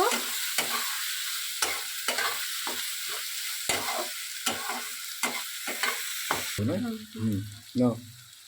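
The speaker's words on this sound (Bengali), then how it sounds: "তারপরে একবার ভালো করে নেড়ে কষিয়ে নেব।" Country chicken curry with onion is fried and stirred in a pan, giving a steady sizzle with regular spoon scrapes close by; toward the end a voice is heard briefly over the cooking.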